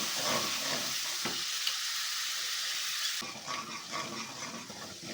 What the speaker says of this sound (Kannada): ಒಂದೆರಡು ನಿಮಿಷ ಫ್ರೈ ಮಾಡ್ಕೊಳ್ಳೋಣ